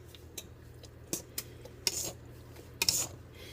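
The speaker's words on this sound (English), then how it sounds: "I'm going to mix it up." A spoon mixing sugar into sauce in a pot gives faint, scattered clinks and soft scrapes against the metal, a few sharper taps clustered near the end, alone in a quiet kitchen.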